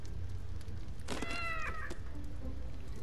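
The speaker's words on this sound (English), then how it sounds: "it sounded like a cat" A single cat meow in the video game Fortnite, a clear, moderately loud meow of about a second over a low steady background rumble.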